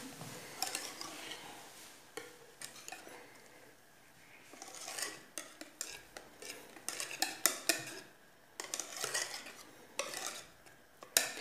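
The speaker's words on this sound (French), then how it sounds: "je vais d'abord mélanger pour détendre un petit peu la crème" A spoon stirs cold cream in a bowl to loosen it for a café liégeois dessert, with repeated scraping and clinking strokes against the bowl, close and moderately loud, in irregular bursts with no talking.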